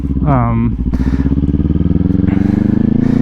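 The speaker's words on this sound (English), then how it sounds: "So here, downshift, rev match." A motorcycle engine runs steadily nearby while a rider downshifts and blips the throttle to match revs. The revs rise and swell near the end, with someone talking over the engine throughout.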